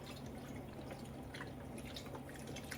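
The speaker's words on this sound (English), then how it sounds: "I'm just gonna pour chicken broth inside my pot here." Chicken broth poured into a cooking pot, a faint, continuous liquid trickle with soft dripping, steady and close with no talk.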